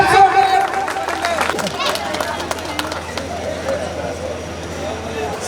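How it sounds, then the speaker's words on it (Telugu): Crowd clapping at a school alumni reunion gathering, a busy patter of many hands mixed with chatter and crowd noise, fairly loud and continuous. "క్లాప్స్."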